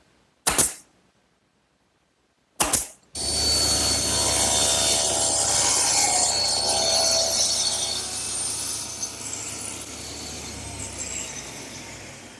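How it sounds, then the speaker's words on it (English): A panel cutter saw slices through a glued-up maple board in a woodworking shop, two short knocks preceding a loud, steady whining cut that runs close and unbroken before tapering slightly near the end. "this panel cutter sure makes squaring up these big pieces easy"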